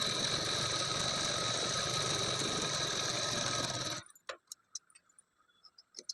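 A sewing machine stitches crush-pleated blouse fabric with a steady, fast mechanical whirr that cuts off abruptly, followed by a few scattered clicks and taps.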